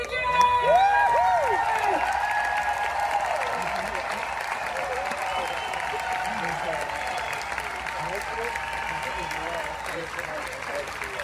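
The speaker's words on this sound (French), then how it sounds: "Applaudissez-le" An evening concert audience applauds conductor Yannick Nézet-Séguin with loud, dense clapping that peaks at the start and then holds steady, with scattered whoops and cheers mixed in.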